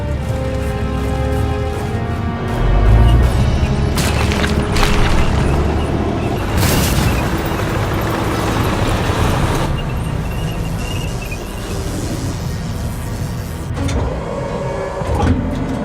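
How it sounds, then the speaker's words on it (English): A tank in Valkyria Chronicles rumbles with low continuous engine drone, overlaid by heavy metallic booms and clanks across the span, loud and close. "Sounds like a tank."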